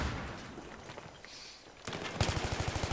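Rapid automatic gunfire from a gun in the video game Battlefield 3 bursts in near the end as a fast, even run of loud shots, following a stretch of quieter ambient game noise.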